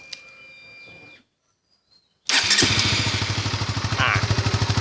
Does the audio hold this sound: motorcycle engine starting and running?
yes